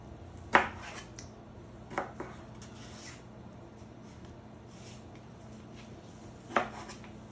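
A coated chef's knife cuts through partially frozen chicken, with three sharp, close chopping knocks on a board spaced several seconds apart over a quiet background hum.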